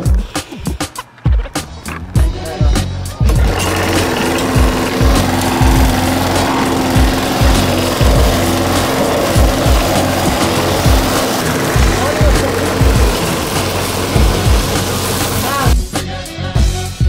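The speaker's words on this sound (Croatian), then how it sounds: "Ovo je sad ultimativno košenje s kosilicom. Za ovom, s traktor kosilicom," A ride-on tractor mower and a trimmer cut grass together, giving a loud, steady motor drone with a constant hum that runs nearly unbroken, plus a few sharp knocks at the start.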